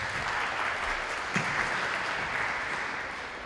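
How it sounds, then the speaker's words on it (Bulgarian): Steady audience applause at a Bulgarian business storytelling event, a dense even wash of clapping held at moderate level from start to finish, with no voices over it. "Аплодисменти за тях!"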